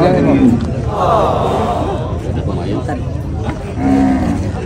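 Deep water buffalo moos ring out close by, a long low call at the start and another near the end, with people talking in the background.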